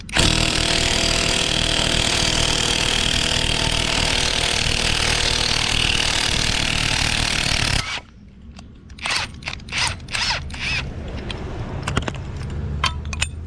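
A power tool drives a ball joint press to push a car ball joint out, a loud steady whir for about eight seconds, then stopping and followed by scattered clanks and tool handling.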